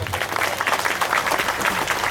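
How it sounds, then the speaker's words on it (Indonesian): An audience at a Cak Nun gathering in Kediri breaks into dense, continuous applause, many hands clapping at once, loud and steady throughout. "Tepuk tangan untuk Jawa Timur."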